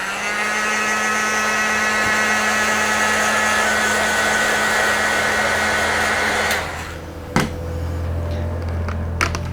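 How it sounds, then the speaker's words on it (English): A heat gun blows steadily on a decal over a crease in RC car bodywork, giving a loud continuous whooshing hum that cuts off near the end, followed by a few light handling clicks. "get with the heat gun."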